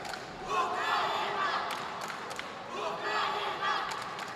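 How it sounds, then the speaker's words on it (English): Spectators roar and cheer in waves at a wushu sanda match at the World Wushu Championships, swelling twice and easing between, with thumps from the fighters and a commentator's voice underneath. "Heard a lot of crowd cheer."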